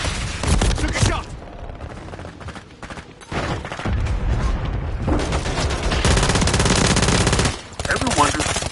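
Sustained rapid automatic gunfire from the video game Call of Duty Modern Warfare 3, loud and dense bursts with brief pauses and booming impacts, close and continuous.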